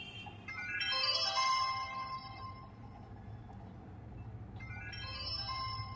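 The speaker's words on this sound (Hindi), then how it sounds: "तो इसमें रिंगटोन कैसा है दिखा देता हूँ" An Amazfit POP 3R smartwatch ringtone melody chimes in two bursts of bright, beeping notes over a steady low background hum.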